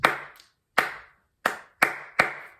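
One person's bare hands clap out a short rhythm pattern, five crisp, close claps with uneven gaps, each with a brief room ring and silence between.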